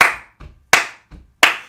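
Clapping along at a Father's Day livestream singalong: sharp, loud claps land in an even beat about every two-thirds of a second, with softer claps falling between them, close and without voices.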